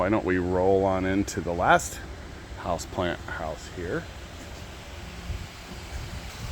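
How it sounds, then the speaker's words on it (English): Electric fans in a greenhouse produce a steady broadband whoosh underneath someone talking, continuing as a constant background rush after he stops speaking. "sorry about that background noise. That's our fans."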